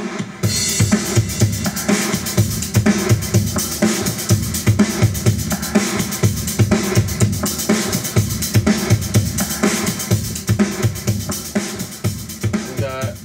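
A full drum kit pounds steadily over a looping drum pattern recorded through ORTF preamps, with dense repeated hits and cymbal wash filling the whole stretch, loud and close with no talking.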